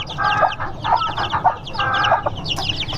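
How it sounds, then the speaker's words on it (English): An older F1 hen clucks with her brood of about seven chicks, the chicks' high rapid peeping layered over her soft repeated clucks, close and continuous without any talk. "This is one of my older F1 hens."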